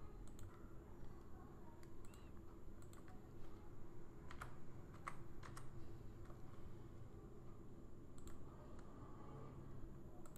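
Typing on a computer keyboard while entering a command into the Windows start menu, a steady run of light clicks and taps with a few sharper keystrokes, close and continuous over low background hum.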